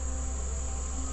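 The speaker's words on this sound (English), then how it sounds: "they have a ton of bees orientating" Honey bees flying around a hive and orientating in late July, a dense continuous buzzing drone, steady and even throughout with no voices.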